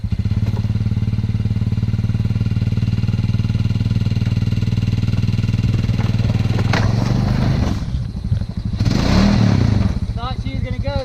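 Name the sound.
Honda Pioneer 500 side-by-side engine spinning wheels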